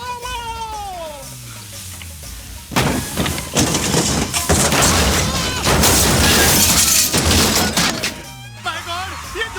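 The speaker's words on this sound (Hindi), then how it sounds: "ये झोपड़ा मेरे गाड़ी के ऊपर कैसे आ गया?" A hut crashes onto a car in a Bollywood action film about a wonder car, a loud burst of cracking, splintering and rattling debris lasting several seconds, framed by dramatic music before and after.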